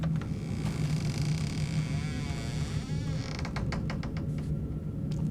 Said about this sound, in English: Slam the door. Slam the door.